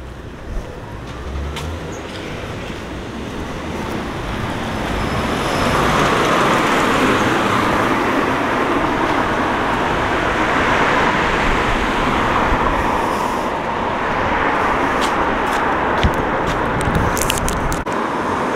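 Steady road traffic on Crookes Valley Road in Sheffield, a continuous broadband roar of passing cars that grows louder after the first few seconds and stays dense, with brief sharper bursts near the end.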